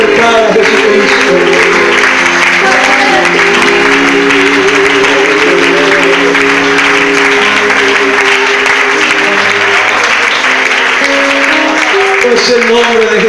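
A church congregation applauds for Jesus Christ during a Spanish-language service, with clapping running steadily through a long stretch under loud music, singing and voices.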